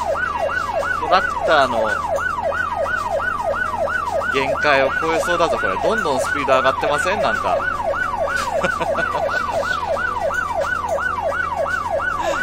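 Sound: police car siren during chase in video game My Summer Car

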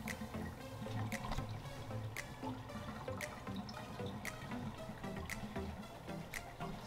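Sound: water draining from a portable twin tub washing machine

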